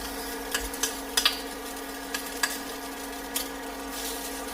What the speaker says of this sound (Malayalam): പാൻ ചൂടായിട്ടുണ്ട് അതിലേക്ക് ബട്ടർ ചേർക്കാം